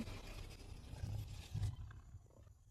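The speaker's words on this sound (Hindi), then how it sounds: "आवाज आई है अभी शेर की" A lion roars in a scene from the film Kantara Chapter 1: a deep, rumbling roar that swells twice and then fades, loud and close, with no voices.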